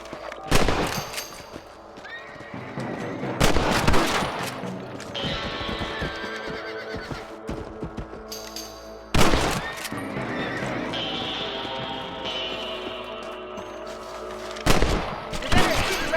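Rifle shots fired at rabbits in the Red Dead Redemption western game crack out loudly in a few separate bursts, over a steady backdrop of horse whinnies, hoofbeats and outdoor game ambience.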